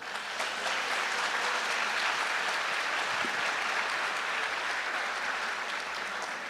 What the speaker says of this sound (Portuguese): Só quem é civilizado, aplauda Jesus aí.